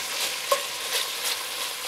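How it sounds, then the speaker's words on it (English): Strips of bacon frying in a pan give a steady, close hiss of sizzle with small crackles and one sharper pop, and no one talks over it. "Listen to that sizzle. Bacon, bacon, bacon."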